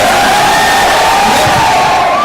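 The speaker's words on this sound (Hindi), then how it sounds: "ये चेयर्स किसके लिए है?" A large crowd cheers and whoops continuously at a live marketing event, a loud, dense roar of voices that holds steady throughout.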